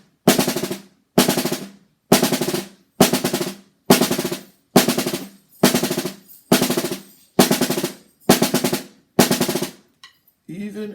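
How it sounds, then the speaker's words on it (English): Snare drum buzz rolls played with sticks in a drum lesson, ten even, sustained bursts of about half a second each separated by short gaps, loud and close, with no talk over them. "You want to keep that buzz even and consistent all the way through."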